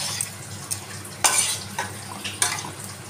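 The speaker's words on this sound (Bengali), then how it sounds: "আমি এবার এটাকে ভালো করে মিশিয়ে দেবো" Prawn curry gets stirred in a metal pan, with a spoon scraping and knocking against the sides in a few distinct strokes over a low sizzle.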